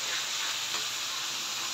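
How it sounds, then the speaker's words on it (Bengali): Spice paste with a little chili powder fries in a pan, giving a steady close sizzle and hiss that runs unbroken throughout, with faint stirring scrapes. "একটুখানি লঙ্কা গুঁড়ো, একটু মিশিয়ে নেব। মশলাটা একটু কষিয়ে নেব।"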